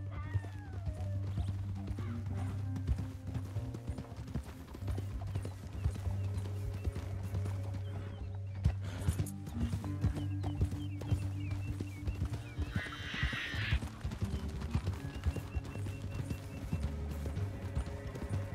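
Horses gallop in the Red Dead Redemption 2 video game, a continuous rhythmic clip-clop of hooves with a whinny partway through, over a low rumbling game soundtrack.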